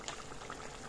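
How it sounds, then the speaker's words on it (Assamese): Chicken curry simmering in a pot, a soft continuous bubbling with small pops, close and quiet, no voices. "এতিয়া কেইমিনিটমান সময় আৰু উতলিবলৈ দিম"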